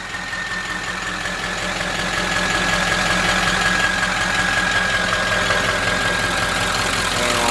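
A 1946 Ford engine idles close by, a steady loud rumbling chug with a faint high whine over it and a slightly uneven beat, no talking.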